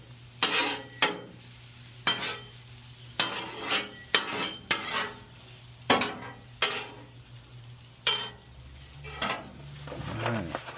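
Eggs fry on a Blackstone griddle under a quiet, steady sizzle, broken by repeated sharp metal scrapes and taps of a spatula at irregular intervals. No one talks.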